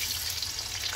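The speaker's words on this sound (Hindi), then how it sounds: "जो पहले आलू है उसको फ्राई कर लेंगे अच्छे से" Potatoes fry in hot mustard oil, giving a steady, close, bright hiss that fills the whole moment with no pauses and no voices.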